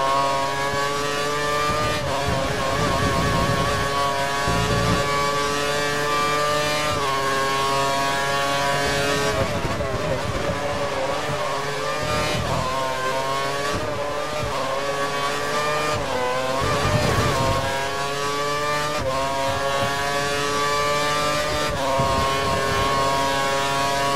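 Race car engine from F1 2013 at the Hockenheim German Grand Prix screams at full power, a loud continuous high-revving whine with shifting gear pitches and steady roar throughout, no talking.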